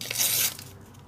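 A short, crisp tear of thin plastic, a single rip that fades after about half a second, close to the microphone.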